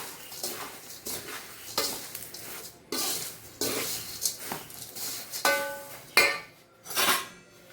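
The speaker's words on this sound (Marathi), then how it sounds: "आता स्लो गॅसवरच मी ह्याला परतत आहे." Poha chivda with sugar being stirred and tossed in a pan over a low gas flame, with repeated scraping and clinking bursts of a spoon against metal and a light sizzle between strokes, close and fairly quiet.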